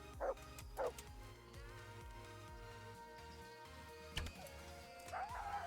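A dog in a video game gives a few sharp yelps and barks, two short bursts near the start and another couple later, over steady in-game music and background tones.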